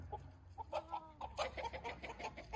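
Several sick chickens cluck and murmur close by in short repeated bursts, a busy flock chatter with no talking.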